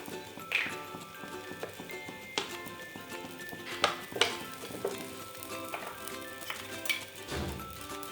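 Wheat dosa cooking on a pan over a medium flame, giving a soft steady sizzle with scattered ticks and small scraping knocks, close and fairly quiet with no talking.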